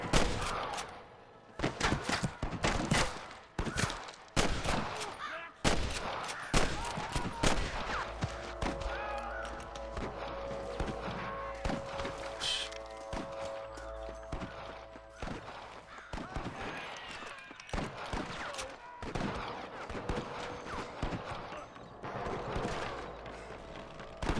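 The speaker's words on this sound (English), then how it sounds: "I can hear more gunshots." Gunfire in the Red Dead Redemption video game on Xbox 360: a string of sharp, loud shots rings out irregularly, some in quick bursts, over a continuous background of ambient game sound and occasional crow caws.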